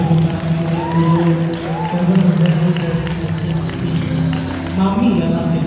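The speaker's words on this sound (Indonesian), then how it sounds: "kita beri tepuk tangan dulu" Wedding guests applaud and cheer in a large hall, a steady wash of clapping and crowd noise running throughout, with voices and music-like tones layered over it.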